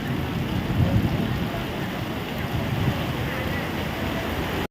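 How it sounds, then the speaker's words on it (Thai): Heavy rain pours steadily at an open-air night market beside a shopping mall in Bangkok, a dense, constant hiss with low rumbling, loud and continuous throughout. "ฝนตกหนักมากเลยเนี่ย"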